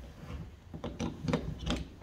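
Adjustable shifter wrench working loose a short tube on a worm drive fitting, giving a series of metallic ratcheting clicks and scrapes at a close, moderate level, ending in a sharper knock.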